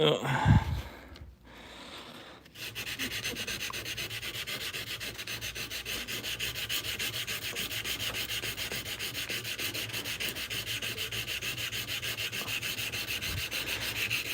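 Steady, continuous rasping of sanding runs for most of the clip after a brief, quieter start. The sound is close and even in rhythm.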